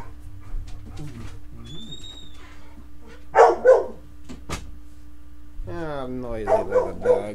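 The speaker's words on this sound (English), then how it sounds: "noisy little dog." A small dog barks in short bursts, mixed with cooing bird-like sounds and voiced chatter, close by and moderately loud.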